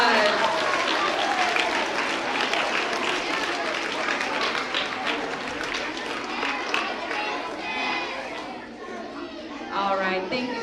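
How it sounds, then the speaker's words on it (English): A school holiday production audience gives a round of applause for the backstage helpers, a dense, sustained wash of clapping mixed with crowd chatter and children's voices, easing off slightly toward the end. "Let's give our backstage helpers a round of applause"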